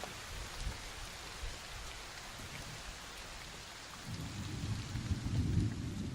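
Steady rain falling with a continuous hiss, joined partway through by a deep rolling thunder rumble that swells toward the end, with no voices.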